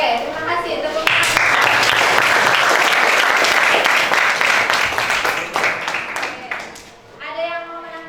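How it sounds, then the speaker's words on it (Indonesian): Loud, dense applause from a classroom of students fills most of the stretch, fading toward the end as a voice begins speaking. "Tepuk tangan."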